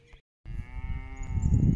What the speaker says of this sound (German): So, da läuft die Familie, die Kühe.